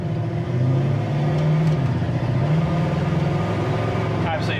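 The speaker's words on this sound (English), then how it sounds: "Until that choke comes off on these 4 barrels, they're going to spit and sputter a little bit." A cold 1969 Pontiac Firebird with a carbureted 400 V8 and four-barrel carb idles with a steady low rumble, running slightly uneven with faint sputters, while people talk nearby over it.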